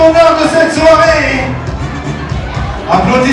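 Concert crowd in Montreal cheering and clapping, a loud burst of whoops and applause close by, with a presenter's voice calling out over the noise.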